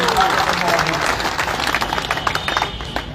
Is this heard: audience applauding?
yes